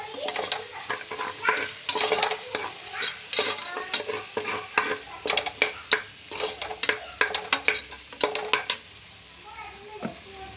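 Egg frying for egg rice, stirred in a hot pan with oil, a steady sizzle broken by sharp repeated scraping and clinking strokes of the spatula, close and alone without talk.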